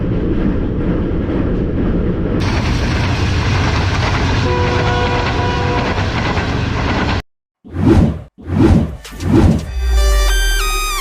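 The Tezgam train at Gujranwala station rumbles loudly with a dense, steady roar and clatter, then cuts to a few swelling bursts and a sustained horn blast near the end, close and powerful.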